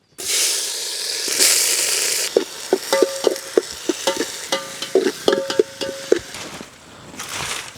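Onions and whole spices fry in hot oil in a pan for a Tamil-style biryani, a steady loud sizzle with bursts of sharp crackle and frequent clinks of a spoon stirring, fading at the end.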